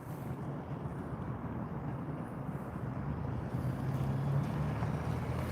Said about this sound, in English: There goes the other canine vehicle.